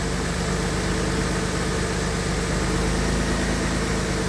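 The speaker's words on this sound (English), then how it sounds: "the engine's quieter" A Jaguar AJ30 VVT car engine idles with a steady, even hum and a faint low throb, constant in level from start to finish, heard close with no voices.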